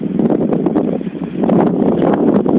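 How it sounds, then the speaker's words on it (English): Wind gusting outdoors among weeds and blackberry brambles, a steady broadband rush that dips briefly and then surges back louder, buffeting the microphone continuously. "here comes the wind"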